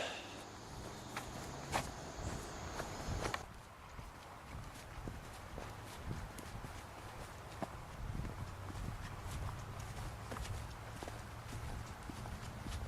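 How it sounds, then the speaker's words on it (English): Footsteps walking through public park woods, steady crunching steps repeating close by through the whole stretch, with a few sharper knocks early on and no talking. "I keep hearing footsteps."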